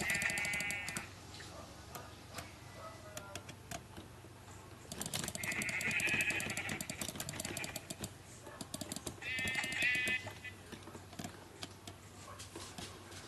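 Three short Minecraft sheep bleats sound a few seconds apart over steady, rapid keyboard clicking.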